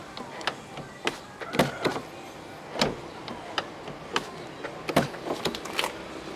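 A 2012 BMW 640i Gran Coupe door is worked nearby, with repeated short mechanical clicks, taps and whirs from the frameless power window and door latch, spaced irregularly over a quiet background.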